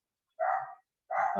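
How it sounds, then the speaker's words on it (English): A pet dog gives two short, sharp barks indoors, separated by a brief pause, moderately close with no talk over them. "You heard the dog barking, right?"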